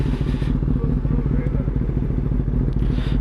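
Motorcycles riding past at night, a loud steady low engine drone with a rhythmic throbbing pulse, close by and continuous.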